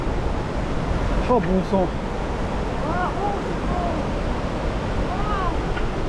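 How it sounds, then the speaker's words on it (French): Steady broadband roar of a waterfall in a secret valley, constant and moderately distant, with a man exclaiming briefly over it. "On commence enfin à voir la cascade."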